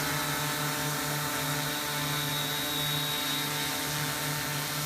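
An MP680Q drone flies after about half an hour in the air, its propellers giving a loud, steady buzzing whine with layered hum tones that holds unbroken throughout.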